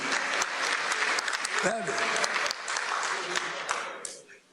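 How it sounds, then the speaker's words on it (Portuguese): An audience at a government program announcement applauds loudly and continuously, clapping that fades toward the end, with voices speaking over it. "o aplauso mais entusiasmado que a gente ouviu ali"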